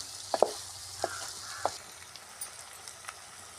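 Chicken fry in a pan sizzles steadily, with a few sharp pops and spatters near the start before the hiss settles into a quieter, even frying sound.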